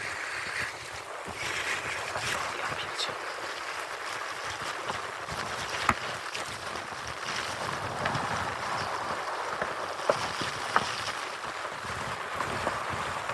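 Steady broadband rush of rain and wind noise during a fast downhill ride toward the PTTK Kudłacze mountain hut near Myślenice, continuous and loud with a few sharp ticks, no voices.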